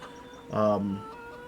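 A single short cluck from a chicken in a farming simulation game, heard alone and fairly clear against a quiet background.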